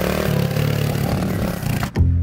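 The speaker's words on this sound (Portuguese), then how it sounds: "vamos dar uma voltinha na moto." A motorcycle engine idles and revs steadily up close, then cuts off abruptly near the end.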